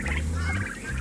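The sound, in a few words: turkeys gobbling in a pen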